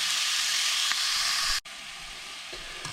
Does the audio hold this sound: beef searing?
yes